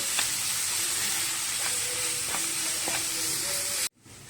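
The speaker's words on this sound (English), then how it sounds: "Mix the ingredients once again together." Chopped tomatoes stirred into a sizzling masala for a quail egg roast, a steady close hiss with occasional soft scrapes and pops, no voices, cutting off abruptly near the end.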